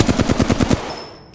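Rapid automatic gunfire in Apex Legends, about eight sharp, evenly spaced shots in a quick burst, loud and close, followed by a short fading tail.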